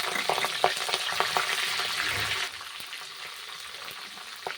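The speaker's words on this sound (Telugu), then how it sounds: "అందులోనే కొత్తిమీర, పుదీనా, కరివేపాకు, పచ్చిమిర్చి ఈ మూడింటిని వేసి ఫ్రై చేసుకుందాం." Coriander, mint, curry leaves and green chillies with bay leaves frying in a pan for an egg curry, a busy crackling sizzle with scattered spatters that suddenly drops to a quieter, softer simmer partway through; no speech.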